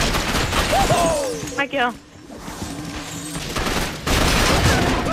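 Gunfire crackles almost continuously in Gotham City Impostors, an online team-based first-person shooter, with rapid shots layered under excited voices of players talking over the action.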